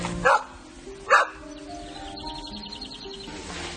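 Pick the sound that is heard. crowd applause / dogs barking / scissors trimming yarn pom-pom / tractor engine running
dogs barking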